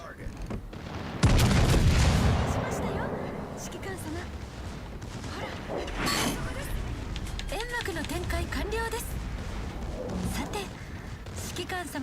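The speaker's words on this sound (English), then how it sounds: "All stations, concentrate fire on the target." Naval gunfire in the World of Warships: Legends game, a heavy boom opening a rolling barrage followed by scattered lighter shots, with a voice talking over the action.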